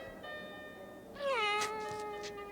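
A cat meows once, a drawn-out rising-then-falling cry heard clearly and close up over a quiet background, with no talking.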